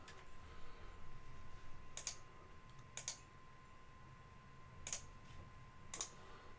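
Sharp, faint mouse clicks on a Linux desktop computer come singly or in quick pairs, spaced apart over a quiet, low hum.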